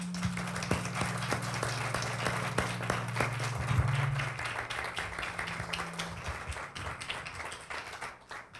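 An audience at a talk on shell ornaments of Mexica gods gives a steady round of applause for a presenter's work, with crisp, even claps that fade toward the end over a low background hum.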